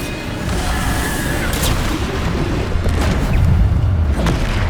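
Bombarda spell blasts in the video game Hogwarts Legacy, heavy booming explosions within a steady loud roar of combat noise, with no clear talk.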